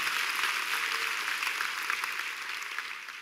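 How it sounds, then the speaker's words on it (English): A church congregation claps their hands during a Sunday morning service, a sustained burst of crowd clapping that slowly tapers off. "won't you give the Holy Spirit a big hand clap this morning?"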